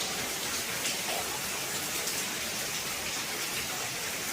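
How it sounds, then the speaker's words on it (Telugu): Rain pours steadily during a downpour, falling outside and dripping through the roof into a home, a dense continuous hiss with no voices. "చూసారుగా వాన ఎలా పడుతుంది ఇంట్లో"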